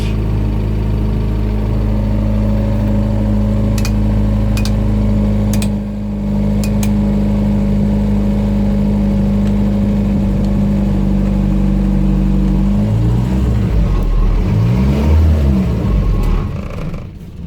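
A Land Rover Series 3 109 engine runs loud and close, with a steady rough idle that rises near the end into a couple of quick revs, plus a few faint clicks on top.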